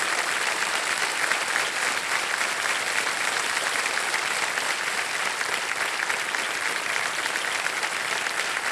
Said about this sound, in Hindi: एक बार इनका स्वागत करते हुए बहुत बहुत ताली बजाएं।